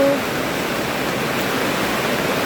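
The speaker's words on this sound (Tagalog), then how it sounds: "Kay naabta na jud ko og ulan." Rain falls steadily on a garden, a dense, even wash of noise that stays constant and fairly loud from start to finish, with no voices.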